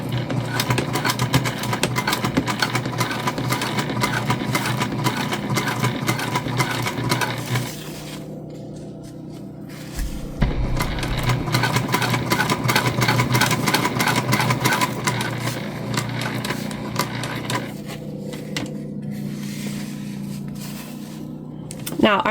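A sewing machine stitches a zippered bag with a rapid continuous mechanical whir that pauses briefly twice before resuming, with someone talking over it.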